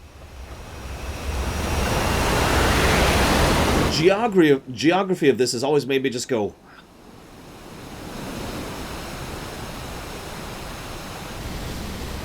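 A steady, broad rush of flowing water fills a Final Fantasy XII scene on PC. A voice briefly speaks over it partway through, and the water keeps pouring loudly and evenly on either side of his words.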